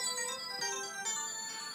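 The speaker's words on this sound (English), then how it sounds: "phone's going again" A phone rings on and off in a room, its faint electronic ringtone tones sitting under steady background hum, with no talking.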